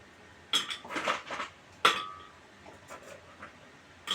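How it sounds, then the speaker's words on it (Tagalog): Ice is tipped into a blender jar for a frozen margarita, giving sharp clattering and clinking bursts of cubes hitting the container, loud and close, followed by a few lighter knocks. "Tapos, lagyan din ho natin ng ice ang ating blender."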